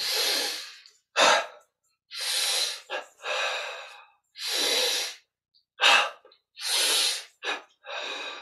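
Repeated deep breaths taken during an exercise workout, a series of loud, close, breathy inhales and exhales in a steady rhythm with short pauses between them and no talking.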